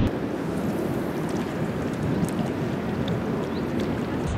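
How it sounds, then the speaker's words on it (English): A big waterfall by a river where people fish for roach, heard as a steady, broad roar with wind buffeting the microphone and no talk. "It's very noisy spot because it's a big waterfall around here."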